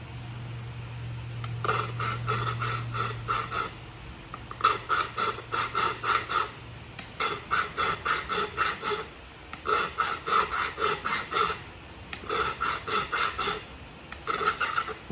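A flintknapping punch tip is sharpened with repeated rasping strokes, several bursts of quick back-and-forth filing separated by short pauses, close and clear over a faint low hum.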